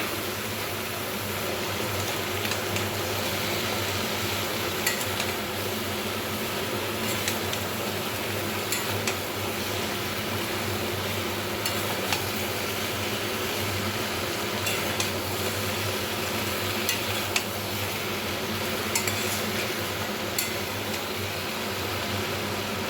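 Chopped pumpkin is tossed into a pan of mixed vegetable chorchori and stirred over medium-low heat. A steady, close frying sizzle carries on throughout, with scraping and stirring clatter, and no talking.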